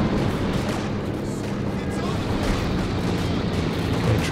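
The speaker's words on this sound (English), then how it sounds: "zeroing artillery again" Zeroing artillery pounds away in a Company of Heroes 2 battle, a dense, continuous rumble of shell impacts and blasts that stays heavy throughout.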